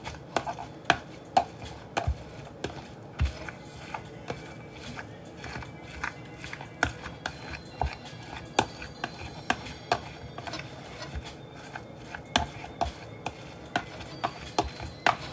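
Tofu being mashed by hand for a tofu scramble, steady soft squelching and crumbling taps in an irregular rhythm, close up and alone.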